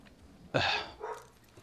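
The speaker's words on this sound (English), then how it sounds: "Oh, that's my dog." A pet dog indoors gives a single short bark, fairly close, followed by a quieter second yip, with low room noise around it.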